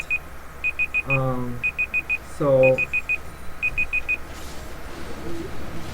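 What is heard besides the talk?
timer beeping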